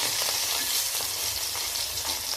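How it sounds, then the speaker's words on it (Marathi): Pieces of boiled matki (moth bean) dish ingredients sauté in hot oil in a home kitchen pan, giving a loud, continuous sizzle with faint stirring scrapes throughout and no talking. "हे चांगले परतून घेते।"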